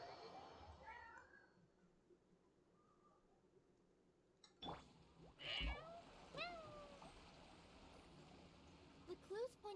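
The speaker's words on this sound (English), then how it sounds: "Petting a very needy cat." A needy cat in the Genshin Impact video game meowing while being petted, quiet at first, then several short meows and chirps in the second half over soft background game ambience.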